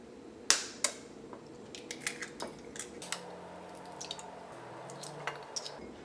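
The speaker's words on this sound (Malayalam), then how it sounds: "അതിന് വേണ്ടിയിട്ട് പാത്രത്തിലേക്ക് നമുക്ക് മുട്ട ചേർക്കാം." Eggs cracked into a bowl for egg dosa: one sharp crack and a wet plop, then soft drips and small squishy taps against the bowl, close and quiet with no talking.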